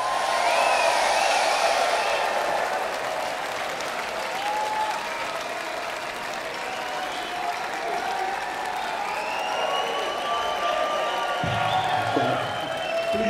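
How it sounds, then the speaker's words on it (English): Sustained audience applause with scattered cheers and whoops fills the Orpheum Theater in Phoenix at a concert, a dense, steady crowd sound lasting throughout. "Please give a warm round of applause for Mr."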